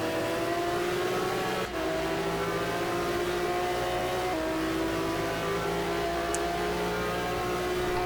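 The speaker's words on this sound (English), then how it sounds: "he gets on the throttle down the back straight" Race car engine in a racing video game, with a steady sustained drone climbing through the revs as it powers down the back straight of the Adelaide circuit, loud and continuous with no voices.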